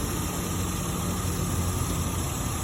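A BMW car engine idles slightly off its proper speed, a steady low rumble with a constant hiss running evenly and alone, no talk over it.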